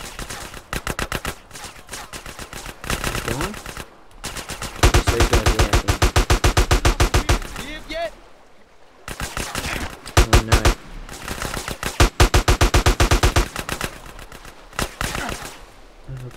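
Rapid bursts of automatic gunfire from a modded GTA San Andreas game, close and loud, in dense stuttering volleys broken by short pauses, with a few single shots between the bursts.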